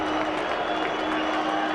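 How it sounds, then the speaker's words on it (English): Grizzly football fans boo in a stadium during a 2006 game against Portland State, a steady, loud crowd roar that holds for the whole stretch without a break. "You can hear the Grizzly fans booing."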